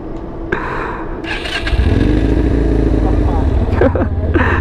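An Italjet Buccaneer 250i V-twin motorcycle engine starts and settles into a loud, steady rumbling idle with a couple of throttle blips near the end, people talking faintly underneath.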